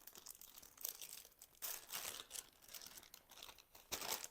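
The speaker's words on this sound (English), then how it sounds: "Sorry for the crinkling." A rainbow plastic bag crinkles in bursts of crackly rustling close by, loudest in a few sharp handfuls as it is moved and handled.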